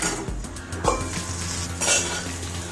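Spine gourd pieces fry in a pan while being turned over, with clinks and scrapes of a utensil against the pan over a steady soft sizzle, close and fairly loud.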